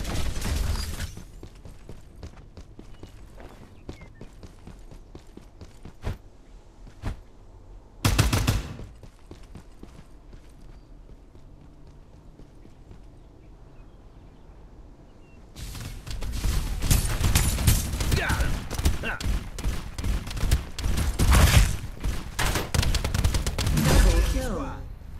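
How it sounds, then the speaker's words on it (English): Video game combat audio: a long quiet stretch with scattered sharp reports and one brief loud blast, then a dense, sustained burst of artillery and rapid gunfire roaring for the final ten seconds. "Artillery."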